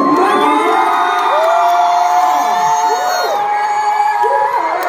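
A large concert crowd at a world tour show in Araneta Coliseum cheers and shrieks continuously, with rising and falling high-pitched screams and whoops filling a big indoor arena, loud and sustained.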